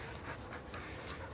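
Dog panting close by, quick rhythmic breaths repeating steadily in a quiet room, faint and alone without talk.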